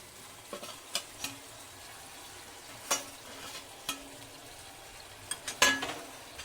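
Bitter gourd pieces, earlier fried, tossed with spices, salt and turmeric in a pan, giving a soft sizzle with a few sharp scrapes and clacks of a spoon against the pan at irregular intervals.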